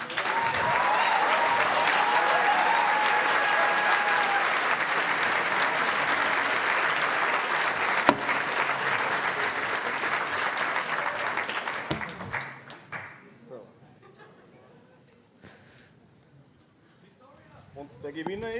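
Audience applause at the rollout of the Joanneum Racing Graz JR22 race car, a dense, loud wash of clapping that continues steadily for about twelve seconds, then thins to scattered claps and quiet before a brief swell at the end.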